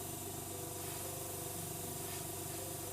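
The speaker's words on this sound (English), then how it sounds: "now I'm spraying this airbrush through my Awata Sprint Jet" A steady, continuous airbrush spray hiss runs over the low, rhythmic chug of a small oil-less piston compressor, unbroken throughout.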